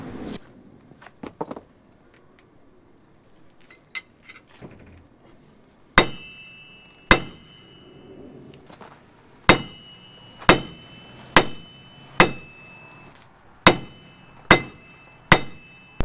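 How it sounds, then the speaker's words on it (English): A slightly underpowered air hammer strikes metal in sharp, ringing bursts while knocking off a wheel bearing on a 2001 Cummins truck, about ten loud impacts spaced roughly a second apart, after a stretch of quieter clinks and handling noise. "The air hammer that I have is a little bit underpowered."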